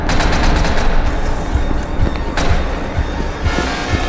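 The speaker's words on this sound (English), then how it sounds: "Shotgun!" Shotgun fire in the video game SCP Secret Laboratory, with heavy blasts and rapid bursts ringing out close and loud over a continuous rumble, with no clear talk.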